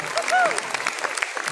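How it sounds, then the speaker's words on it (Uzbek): Audience applause fills the hall at a film premiere and opening ceremony: a short, dense burst of clapping from a crowd, with a brief whistle rising above it. "va mana shu olqishlardan davom etamiz"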